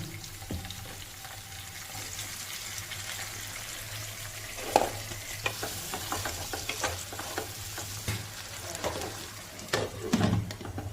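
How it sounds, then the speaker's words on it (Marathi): Green peas frying with onion and turmeric in a pan over a low flame, a soft, steady sizzle with scattered stirring scrapes and clicks, one sharper knock midway, fairly quiet and close, without speech. "आता आपलं वाटाणे 2 मिनिटं आपण फ्राय करून घेतले कांद्यावरती"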